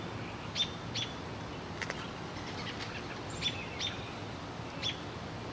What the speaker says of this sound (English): Birds chirping, sun shining.